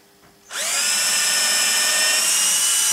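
A power drill fitted with a small 2.5 mm bit spins up abruptly and keeps a steady high whine for a few seconds, close and loud, while building a roller shutter box.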